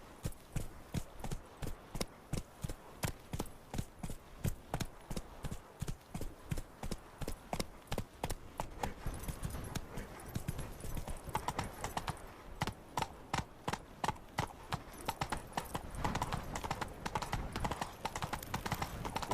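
A horse's hooves clip-clop at a brisk, steady trot in the video game The Witcher 3: Wild Hunt, with an even rhythm that continues throughout.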